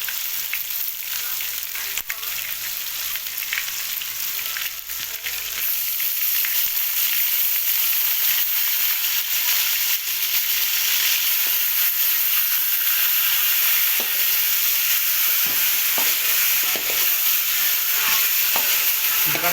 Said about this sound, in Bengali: চিকেন ফ্রাই করা হবে।